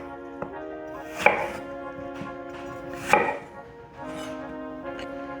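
A knife cuts fruit into slices for a vegan climbing snack, giving two clear crisp cuts about two seconds apart over a steady low background tone.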